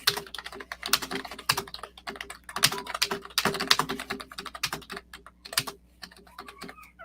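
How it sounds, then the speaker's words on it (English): Rapid typing on a computer keyboard, close and crisp, with irregular bursts of clicking keys and short pauses between runs and no talking. "you're just going to hear my computer typing for me real quick"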